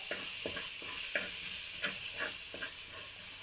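Garlic frying in a pan for molokhia, a constant sizzle with a series of soft scraping stirs repeating about every half second, close and moderately quiet.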